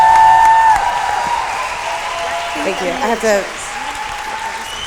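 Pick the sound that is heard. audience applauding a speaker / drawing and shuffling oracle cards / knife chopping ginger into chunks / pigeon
audience applauding a speaker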